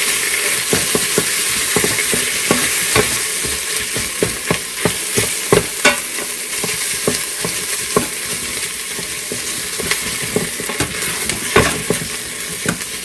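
A pot of tomato paste is stirred over the heat, a steady sizzle running underneath as a spoon scrapes and knocks against the pot in an uneven rhythm, close and fairly loud.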